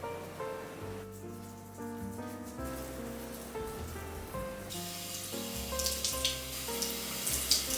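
Tap water runs steadily into a bathroom sink during a nighttime face wash with exfoliating cleanser, a continuous splashing hiss over a soft musical bed that grows brighter and louder toward the end.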